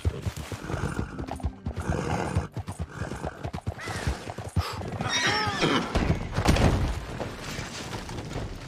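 A horse in the video game Red Dead Redemption 2 whinnies loudly several times over a steady clip-clop of hooves, close and prominent, with brief sharp bangs in between.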